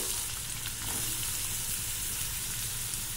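Onions, mustard seeds and cumin frying in hot oil in a kadai, a dense continuous crackling sizzle that stays even and close throughout, with no voices.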